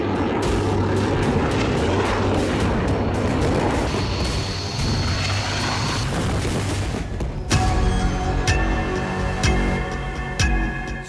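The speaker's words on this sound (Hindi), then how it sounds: "सिलसिलेवार बम धमाके, मिसाइलों की बौछार" Heavy booming bomb blasts and rumbling over a droning aircraft engine, with sharp repeated artillery bangs later, loud and chaotic.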